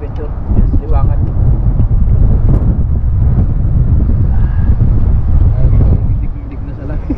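Strong seaside wind roars against the microphone during a cold, blustery fishing outing by the shore, a loud continuous low rumble with gusts, while people talk faintly underneath.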